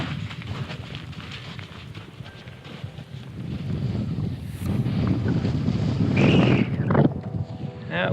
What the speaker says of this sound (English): That wind is just blowing.